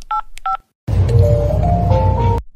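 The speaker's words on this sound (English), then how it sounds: "Now let's enter the intercom code on the phone and get on with this." Two short keypad beeps sound as an intercom code is dialed on a phone, followed by a brief gap and then a loud burst of rising tones over a low rumbling hum.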